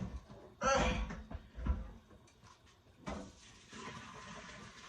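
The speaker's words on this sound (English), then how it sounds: "Pouring this dirty water off." Dirty water is poured off boiled chitterlings from a big pot, a gushing splash that surges, fades, then returns as a longer steady pour, alongside clanks of the pot.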